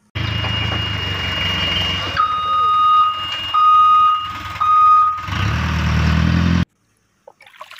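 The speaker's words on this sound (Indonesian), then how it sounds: "Ini mobil apa? Ini mobil dump truck." A toy dump truck gives off loud electronic reversing beeps, a sustained tone that cuts in and out several times before stopping abruptly, close and alone.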